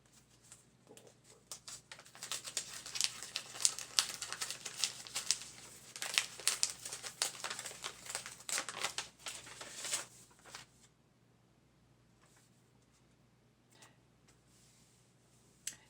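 A paper envelope is torn open and handled, giving several seconds of close crinkling, tearing and rustling that fade into a few quiet taps.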